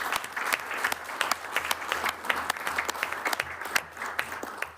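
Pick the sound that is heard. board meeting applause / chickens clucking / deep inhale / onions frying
board meeting applause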